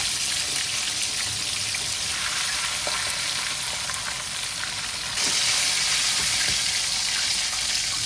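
Rabbitfish frying in oil in a pan, heard as a loud, close, continuous crackling sizzle that swells slightly toward the end, with faint scattered pops and no talking.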